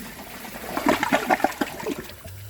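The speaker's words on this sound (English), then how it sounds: "I'm going to give this another flush" A 2015 Kohler Cimarron one-piece toilet flushing, a close gurgling rush of water with splashy pulses that swells and then tapers off into a quieter trickle, with no talking.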